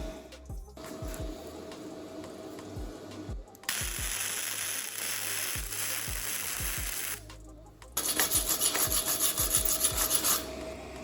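A MIG weld on sheet metal, made with a Bestarc MIG 145, is cleaned up with a power tool, giving a continuous close rasping grind in several long passes separated by brief pauses, with the pitch and loudness shifting between passes.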